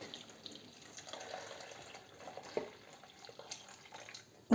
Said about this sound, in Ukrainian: Отак заливаємо сюди. Теплу воду, горячу